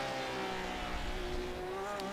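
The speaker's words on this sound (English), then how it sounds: "Here is Benzo in his Porsche 911 GTE RSR." Porsche 911 GTE RSR race car in the Simverse Sports Car Challenge racing game at Silverstone, its engine holding a steady, strained high-revving whine with rising pitch, continuous and moderately loud.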